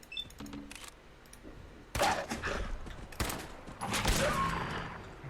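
Gunfire in the Fallout 4 video game, sharp shots at a moderate distance, with a few spaced bursts over faint background ambience.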